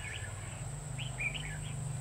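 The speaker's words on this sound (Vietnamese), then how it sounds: "Có một con ở phía đâu thành phố thì nó hót." Red-whiskered bulbul singing, a few short bright chirping phrases at a moderate distance over a steady low hum and a thin high whine, with no voices.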